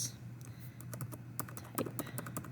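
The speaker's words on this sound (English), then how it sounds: "type Sam Houston, and then Mr. Lamar." Quiet keystrokes on a computer keyboard tap out in an irregular run of clicks, close and alone with no talking over them.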